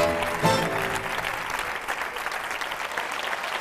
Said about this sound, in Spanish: Un fuerte aplauso para Lara Ruiz.